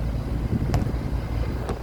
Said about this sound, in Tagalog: Grabing hangin kasi.